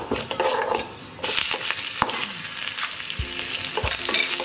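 Mustard seeds, curry leaves, onion and garlic sizzling in hot oil in a South Indian kitchen: a sharp surge of crackling frying as the ingredients hit the pan, then steady close sizzling with stirring scrapes.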